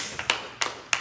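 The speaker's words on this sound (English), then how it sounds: "Let's give the Lord a hand clap of praise in the house of God." Congregation in a church service clapping hands in praise, heard as three sharp, separate claps spaced about a third of a second apart, moderately loud and fairly close, with no talking.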